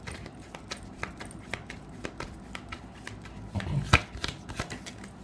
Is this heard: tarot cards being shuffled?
yes